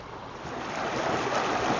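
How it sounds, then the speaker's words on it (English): Oxygenated water from the main river pours into a small river pool, making a steady, close rushing wash that swells slightly louder toward the end, with no voices. "Lots of oxygenated water coming in from the main river above"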